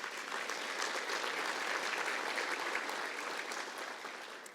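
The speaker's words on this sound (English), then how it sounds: "Let's give a round of applause." A luncheon audience gives a full round of applause, a continuous wash of clapping that swells slightly and then tapers near the end.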